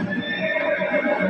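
A 550-kilogram horse neighs in a long, loud whinny that rises and falls in pitch, with faint hoof clip-clop beneath it.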